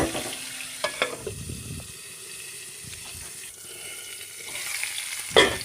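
Eggplant slices frying in a pan give a steady oily sizzle, with a few clatters and stirring sounds as the pieces are turned and a brief louder scrape near the end.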